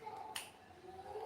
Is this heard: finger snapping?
yes